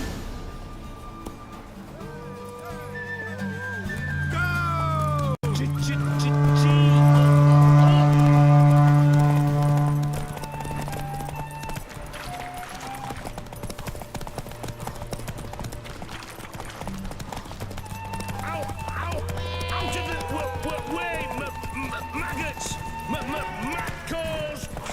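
A horse gallops in The Witcher 3: Wild Hunt, Blood and Wine, its hooves drumming in a steady, fast clip-clop under a loud droning tone and game music, with characters talking over it.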